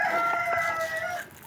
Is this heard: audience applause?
no